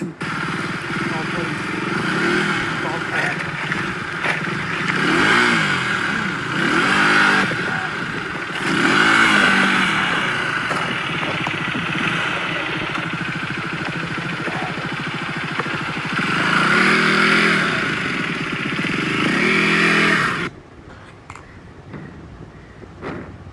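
A KTM Duke 250 motorcycle engine revs and labors continuously on a rural off-road trail, rising and falling with throttle and rattling over rough ground, then cuts to quieter background near the end.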